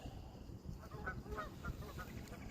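Geese squawk and honk in the background near a fishing spot, a scatter of short calls over steady outdoor noise, faint and somewhat distant.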